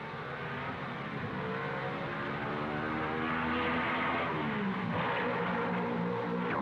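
Two 1955 Mercedes Formula 1 race cars running nose to tail through the Monaco street circuit, their engines roaring loudly and steadily with rising and falling pitch as they pass close by, no talk over the sound.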